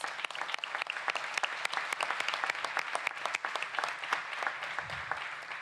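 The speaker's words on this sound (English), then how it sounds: "Give a round of applause" An audience at the Fort Worth City Council meeting in City Hall applauds, with many sharp individual claps over a sustained, fairly quiet round lasting several seconds.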